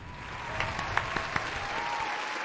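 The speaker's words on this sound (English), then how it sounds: "And the applause" Applause sound effect played on a live music stream, a fairly faint, even wash of clapping with a few sharper individual claps standing out near the middle.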